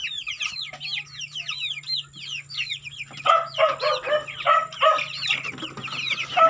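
Hens cluck repeatedly in short bursts, with a rooster-like call and chirping birds in the background, fairly close and continuous.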